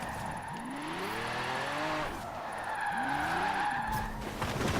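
Drifting car squealing its tires through a Forza Horizon drift zone, engine droning steadily as two long rising squeal sweeps slide over the top, alone and close.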